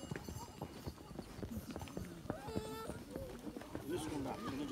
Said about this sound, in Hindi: घोड़े से जा रहा हूँ